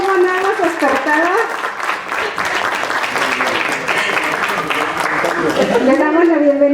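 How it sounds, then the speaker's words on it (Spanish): An audience at a community council forum in Iztapalapa applauds to welcome a congresswoman. The clapping is loud and continuous, with voices talking and calling out over it throughout. "Un aplausito."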